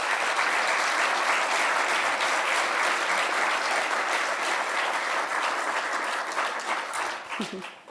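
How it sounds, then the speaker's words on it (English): Audience at an awards ceremony honoring student athletes applauds steadily and loudly in a dense, sustained clatter for about seven seconds before it thins and tapers off at the end, with a little talk faintly mixed in. "One more big round of applause for our 4 finalists and our winner tonight."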